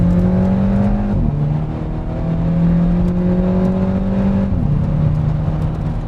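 Volkswagen Scirocco 2-litre engine droning steadily in gear, heard from inside, with two upshifts where the pitch briefly drops before climbing again.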